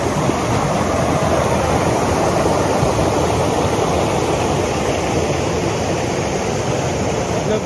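Small mountain waterfalls along a trek rush as a loud, dense, unbroken roar of water heard close by, with no voices.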